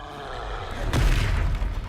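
Confringo explosion spell cast in a video game, a single deep booming blast about midway that swells, then rumbles and fades over a low background hum.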